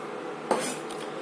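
A metal cooking pot lifted off an induction stove, one brief clank of cookware against the glass top followed by a faint scrape, close by over a steady background hum, without speech.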